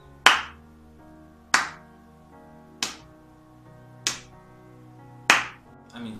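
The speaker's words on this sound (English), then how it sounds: "they clap like this" Slow, deliberate hand claps, five sharp, separate claps spaced about a second apart, each ringing briefly in a quiet room, close and clear with no voices.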